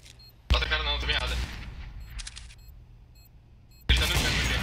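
Gunfire from the video game CS:GO sounds as a loud, sharp burst that rings briefly, followed by a quieter stretch and then another heavy blast near the end.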